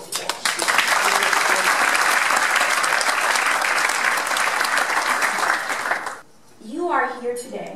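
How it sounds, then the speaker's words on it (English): A gathering honouring the Roanoke Valley's most generous workplaces breaks into a dense, loud round of applause for its sponsors, lasting about six seconds before cutting off, followed by a brief spoken voice. "I think they should give a round of applause."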